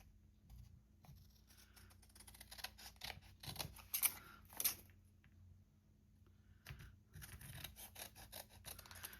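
Scissors cut through scrapbook paper with quiet snipping and rustling at close range, a few sharper crisp cuts standing out amid faint handling sounds in a quiet room.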